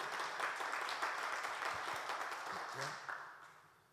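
A church congregation claps together in a sustained burst of applause that gradually fades toward the end, with faint crowd voices mixed in.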